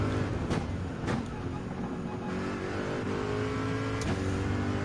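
A Corvette C7 Group 3 race car in Gran Turismo 7, racing in a Manufacturers Cup event, drones steadily at moderate level, its engine tone rising and falling with a few sharp revving bursts.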